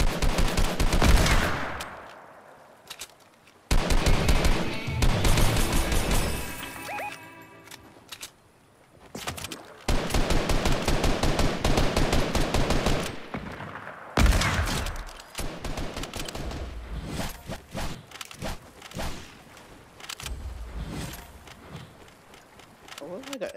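Submachine gun fire in a duos video game match, loud rapid bursts repeating across the clip with brief gaps between volleys.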